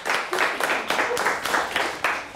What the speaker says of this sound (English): Nice round of applause for both teams here.